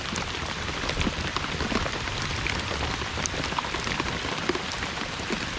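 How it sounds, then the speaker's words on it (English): Rain falls steadily on Lake Chickamauga ahead of a thunderstorm, a dense, continuous patter with scattered heavier drops close by and no speech. "I don't mind for the rain."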